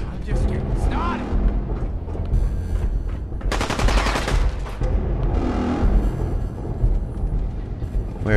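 Sustained automatic gunfire and explosive bursts in a Fallout 4 survival firefight, loud and continuous throughout with a dense stretch of rapid shots midway, while someone talks over the shooting.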